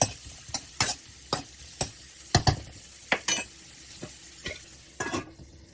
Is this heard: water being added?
no